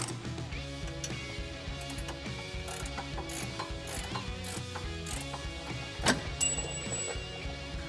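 A ratchet clicks rapidly and continuously while backing out a bolt on a suspension hanger bracket of a 2015-2019 Dodge Challenger, a close, steady mechanical ticking that runs alone throughout.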